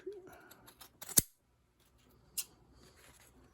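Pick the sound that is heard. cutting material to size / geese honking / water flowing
cutting material to size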